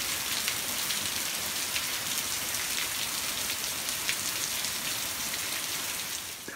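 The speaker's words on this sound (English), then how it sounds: "It is pouring outside" Heavy rain pours steadily outside on a rainy afternoon, a dense, constant hiss of drops drumming on surfaces that holds at the same loud level throughout, with no voices.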